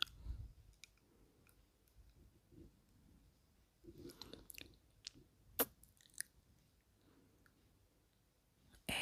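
Quiet, close gum chewing with soft wet clicks and smacks, scattered through the clip, a few sharper snaps toward the middle, intimate ASMR-style with no talking.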